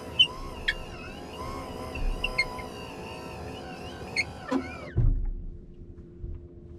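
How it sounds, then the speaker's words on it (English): A vehicle's power steering motor or pump gives off a steady whine with tonal overtones and faint squeaks, then suddenly cuts out near the end, leaving a quiet low hum. "to me it sounds like the steering and the power steering motor or whatever it is, it might be a pump or something"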